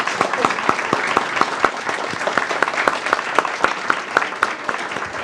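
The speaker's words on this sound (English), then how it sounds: "One more round of applause as we thank you for your service." Audience at a school board meeting gives a short round of applause: fairly sparse, distinct hand claps in a loose rhythm, close and clear, lasting a few seconds, with a voice faintly under it.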